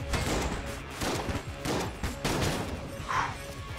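Gunfire from the Enter the Gungeon video game: dense, rapid bursts of shots rattle continuously and close up, with barely any pause between volleys.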